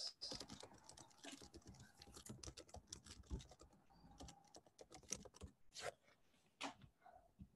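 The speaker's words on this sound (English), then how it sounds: "It's called like Mercury mechanical keyboard" Typing on a Mercury mechanical keyboard, quick irregular bursts of clicky keystrokes heard up close and alone, with brief pauses between runs.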